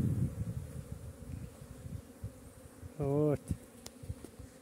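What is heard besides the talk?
bees buzzing and flying around hives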